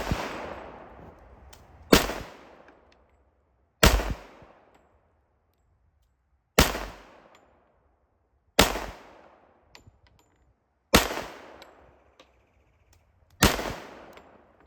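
A Standard Manufacturing 1911 pistol fires seven loud, sharp shots at targets 10 yards away, spaced roughly two seconds apart, each with a short echoing decay outdoors.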